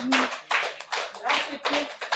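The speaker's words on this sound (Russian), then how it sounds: "Аплодисменты." Applause at a gathering in Yakutsk, heard as a few close bursts of clapping in separate pulses, with a voice speaking over it.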